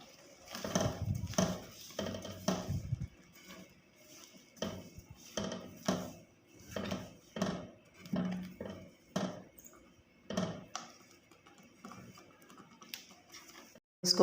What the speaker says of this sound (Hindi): अब इसको हम मिक्स कर लेते हैं।